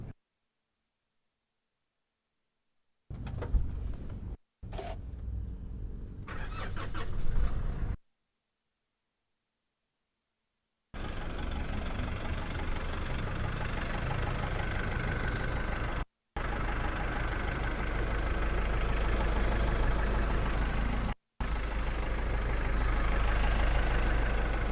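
A 2017 Nissan Navara NP300 with a 2.5 DDTi turbo diesel idles with a steady, low, clattering rumble, close and even, broken by several stretches of silence and brief cut-outs.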